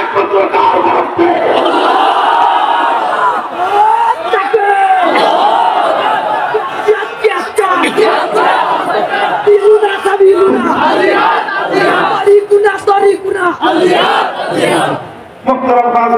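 A large crowd chants slogans in loud, sustained unison at an open-air Islamic sermon gathering, the massed voices rising and falling in repeated waves with little pause throughout.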